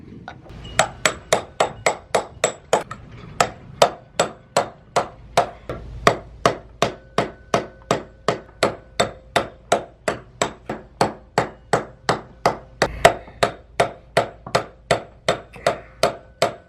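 A hammer taps steadily on a sailboat propeller shaft to drive it loose, about forty sharp metallic strikes in an even rhythm, close and loud, with no talking.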